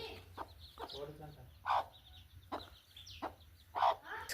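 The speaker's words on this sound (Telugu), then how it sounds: "కోడి పిల్లలు ఇవి" Chicks cheep in short high peeps while being fed, close by and fairly faint, with several brief louder chirps between spoken remarks.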